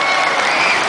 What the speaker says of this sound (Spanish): Un aplauso para Katherine, por favor.